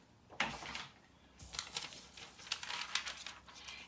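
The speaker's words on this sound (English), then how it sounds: "So I'm just going to cut these out." Scissors snip and crinkle through thin glossy magazine paper while cutting out shapes, close and fairly quiet, in irregular bursts of rustling cuts with short pauses between.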